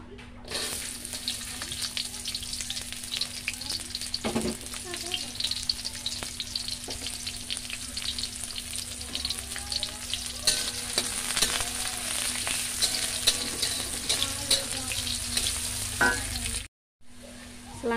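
Steady, continuous sizzling and crackling of fried shallots sautéing in a hot pan, with occasional stirring clinks, close and constant throughout.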